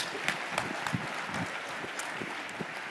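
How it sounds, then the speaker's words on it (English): Audience applause at a marketing conference keynote, a faint, distant patter of clapping with a few sharper individual claps standing out. "Let's clap it up for him."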